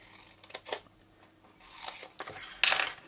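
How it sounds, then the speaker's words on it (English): Shimmery paper is cut for a gold favour box, with several quick, close scissor snips spread across a few seconds, the last one the loudest. "And then cut up these parts."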